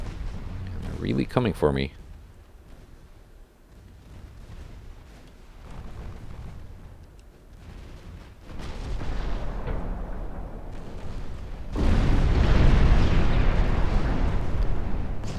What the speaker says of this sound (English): I'm just going to use secondary guns to take out the transports